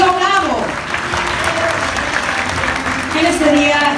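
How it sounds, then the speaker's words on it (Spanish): An audience at a school ceremony breaks into loud, sustained applause, with dense clapping filling the whole stretch and tonal sounds from a speaker over a PA running above it. "Fuerte el aplauso, por favor"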